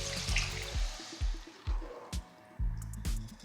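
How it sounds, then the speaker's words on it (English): Water pours into a soup pot for chicken turmeric soup in a string of short splashing, gurgling bursts, close and fairly quiet. "I'm gonna add 8 cups of water to this."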